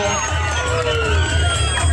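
A lively crowd at a stage event honouring a young village mimicry performer cheers, whoops and shouts loudly and continuously, clapping mixed into the dense roar.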